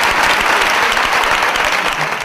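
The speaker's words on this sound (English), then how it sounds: "let's give Inecto another warm round of applause" An audience at a product launch event applauds loudly and steadily, dense clapping close by that holds for the whole stretch and tapers slightly at the end.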